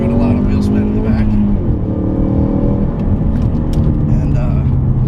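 A 2015 Ford Mustang EcoBoost Performance Pack with a six-speed manual launches from 3,000 RPM with rear wheel spin, its loud engine roaring close and steady beneath someone talking.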